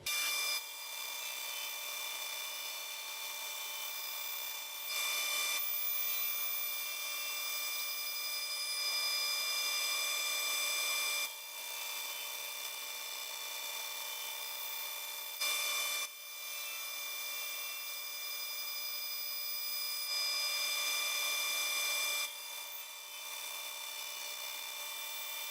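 Wooden boards are run one after another through the Accu-Slice resawing system fitted with an automated indexer, giving a steady, loud, high-pitched machine whine with brief dips between passes and no talking.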